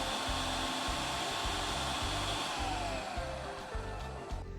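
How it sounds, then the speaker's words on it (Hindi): A kitchen mixer grinder grinds cheesecake crust mixed with butter, giving a loud, steady motor whir with a rhythmic chopping pulse that holds throughout and eases slightly near the end. "और अब हम इसको अच्छी तरह से फिर से ग्राइंड कर लेंगे।"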